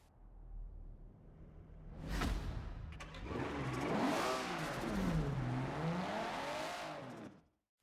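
Audi A800 racing car in Forza Horizon 4, its original 1.4-litre Toyota engine swapped out, revving hard: a loud, near engine note rises and falls through several sweeping accelerations after a brief whoosh, then cuts off abruptly.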